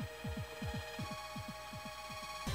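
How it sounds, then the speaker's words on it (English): Rhythmic pulsing heartbeat effect from the Pokémon White 2 video game battle intro: paired low thumps repeating steadily, about eight beats over a sustained electronic hum, ending in a brighter swell. "There's a little heartbeat sound in that battle intro."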